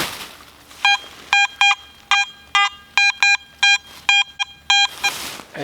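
A metal detector at an abandoned farm gives a series of short, evenly spaced electronic beeps, about a dozen rapid tones in a row, close and clear, signalling a mason jar.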